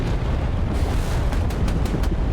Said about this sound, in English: Oh my god, a missile just went out!